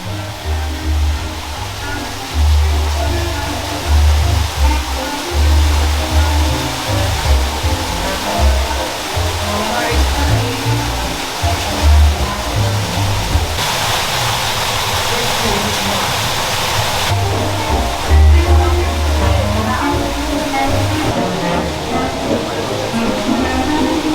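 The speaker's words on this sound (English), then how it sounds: "I love the noise of the waterfall." Waterfall splashing steadily inside a dimly lit distillery in Los Angeles, a continuous broad rush with low churning rumble, close and fairly loud, with faint voices and room noise mixed in.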